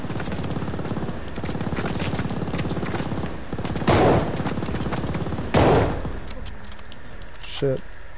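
Machine gun fire in the game Call of Duty: Vanguard; rapid, rattling bursts run almost continuously, with two heavier impacts standing out and a voice talking over the shooting.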